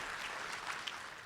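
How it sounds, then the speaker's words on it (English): Brief burst of audience applause in a large conference plenary hall, fairly faint and distant, steady clapping over roughly a second. "Yes, you can clap for that."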